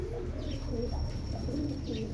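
Racing pigeon with ring number 1296 cooing softly in repeated low murmurs, fairly close, over a steady background hum.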